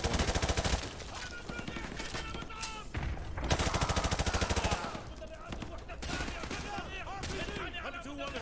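Heavy automatic gunfire in Modern Warfare 2 Campaign Remastered video game, rapid loud bursts and rattling volleys layered with shouted voices, nearly continuous with brief gaps.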